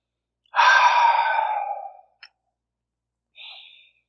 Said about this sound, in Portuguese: Se você quiser pode fechar os seus olhos e continue respirando.